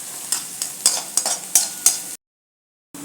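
Onion and ginger-garlic paste being stirred and sautéed in a pan for a potato masala sandwich filling, with a soft sizzle and a series of rhythmic scraping stirs, close and moderately loud, ending in a brief silence.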